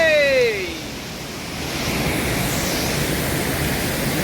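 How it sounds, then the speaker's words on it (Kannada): Lakshmana Tirtha waterfall in Coorg near Madikeri, dropping from about 51 metres, makes a steady broadband roar of rushing water, with a brief whistle-like tone fading out at the start. "ನಮ್ಮ ಲಕ್ಷ್ಮಣ ತೀರ್ಥ ಮಡಿಕೇರಿಯಲ್ಲಿರೋ ಜಲಪಾತ 51 ಮೀಟ್ರು ಎತ್ತರದಿಂದ ಜಿಗಿಯುತ್ತೆ"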